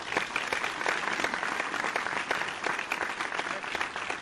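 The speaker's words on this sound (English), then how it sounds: "audience, let's all give Diamond a clap." An audience claps together in steady, dense applause that holds at an even level for a few seconds, with no voices over it.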